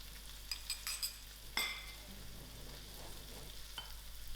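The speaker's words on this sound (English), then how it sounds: "I will allow this to fry for about 3 to 5 minutes" Tiny beans fry in a masala with salt, a soft steady sizzle running throughout, with a few light clinks of a spoon stirring against the pan near the start.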